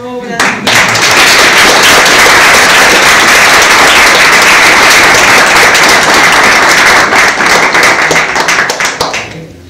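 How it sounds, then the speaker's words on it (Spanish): Audience at a book presentation on suspense fiction at the Fundación Wenceslao breaks into loud, close, sustained clapping that starts abruptly and runs for several seconds before tapering off at the end. "Eso merece también un aplauso."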